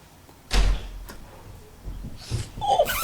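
A door bursting open in a 3D holophonic horror recording: one loud, sharp thud and burst near the start, followed by quieter creaks, rattles and shuffling movement.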